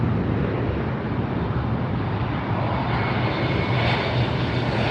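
Airplane arriving at LAX airport produces a loud, continuous, roaring engine rumble that holds steady throughout, close by with some wind noise on the microphone.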